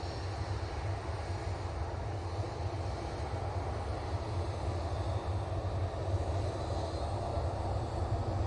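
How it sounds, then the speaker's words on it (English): An Airbus A320neo arriving from Copenhagen at Manchester Airport gives a steady, fairly faint low engine rumble that holds level throughout with no voices over it. "Coming in from Copenhagen using our A320 Neo."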